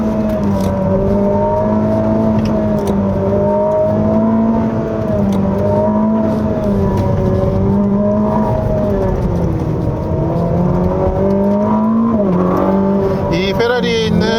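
Ferrari SF90 Stradale engine pulling hard along a winding road, a steady loud rising and falling drone heard from inside the car, with someone talking over it throughout.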